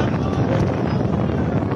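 Wind buffets the microphone at a 2023 amateur football match between Evliya Fakı Spor and Yenice Gençlik Spor, a steady, loud broadband rush with no other clear sounds.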